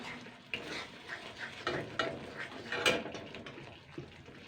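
A spiced masala with cumin, garam masala and Maggi seasoning fries in a pan while being stirred. A soft sizzle sits under repeated scraping and clinking of the spatula, close and fairly quiet, with no talking.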